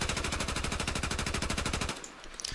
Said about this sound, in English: and I'm just gonna shoot at it.